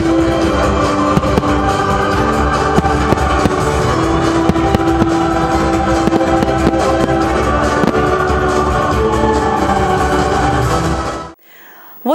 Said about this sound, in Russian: Кульминацией юбилейных торжеств стал весьма продолжительный праздничный салют, который был виден из многих районов города.